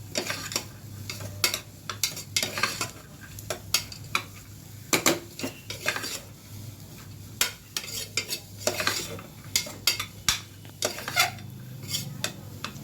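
A spoon stirs a pot of homemade vegetable soup with beans, producing irregular close metallic scrapes and clinks over a faint simmering sizzle, with no talking.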